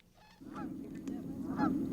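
A greater sandhill crane calls out over the Grays Lake marsh with two rolling, honking bugles, fairly faint and distant against a quiet background.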